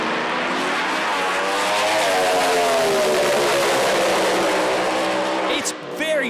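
Pro Slammer drag cars from a 400 Thunder meet roar at full throttle down the strip. The loud engine howl climbs steadily in pitch as they accelerate, then cuts off abruptly near the end. A commentator talks over the noise.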